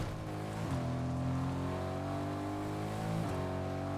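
Car engine in Fortnite droning steadily while driving, with two brief shifts in pitch as it accelerates, close and continuous with no talk.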